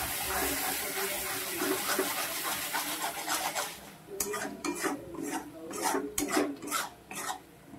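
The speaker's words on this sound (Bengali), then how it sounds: "এবার মশলাটা খুব ভালো করে কষবো।" Spice paste with ground coriander and cumin being stirred and fried in a pan for a Bengali mutton curry, a continuous scraping sizzle that turns into rhythmic bursts of scraping strokes in the second half.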